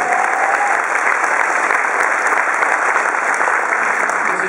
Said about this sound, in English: I guess I should make a note that that's apparently an applause line.